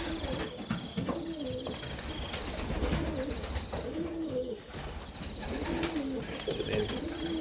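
Serbian Highflyer pigeons coo repeatedly inside a breeding loft, their low rolling calls recurring in waves over a constant background hiss and faint rustling.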